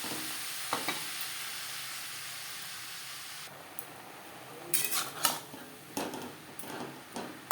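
Banana stem stir-fried with onion and green chili over high flame, soft frying hiss at first, then scraping stirs and clinks of a spatula on the pan growing louder and more frequent.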